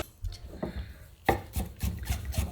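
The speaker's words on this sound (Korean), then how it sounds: "잘게 썰어주세요" Blanched shepherd's purse (naengi) finely chopped with a knife on a cutting board: soft taps first, then a burst of quick, sharp, close chops in an irregular rhythm, with no talk.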